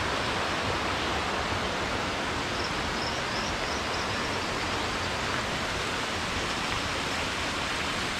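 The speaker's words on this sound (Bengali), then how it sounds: "ছোট্ট ঝর্ণা।" Small waterfall at Yana Caves near Gokarna, Karnataka: a continuous, loud, even rush of falling water filling the whole stretch, with a few faint high chirps briefly audible in the middle.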